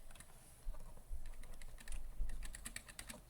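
Python code being typed on a computer keyboard, close and quiet, in irregular bursts of rapid key clicks that grow denser toward the end.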